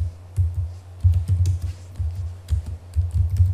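Commands being typed on a computer keyboard for network switch configuration, irregular bursts of close key clicks with a low steady hum underneath.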